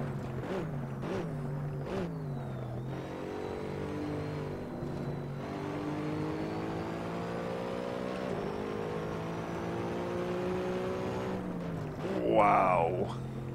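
A car engine climbing through the gears at well over 200 km/h in the Assetto Corsa racing game, a steady loud drone rising in pitch between brief shift dips, with a sharper burst near the end.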